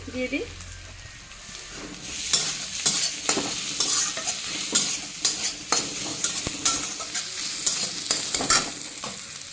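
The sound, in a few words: ginger and green chili frying in a pan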